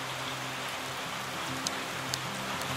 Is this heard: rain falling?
yes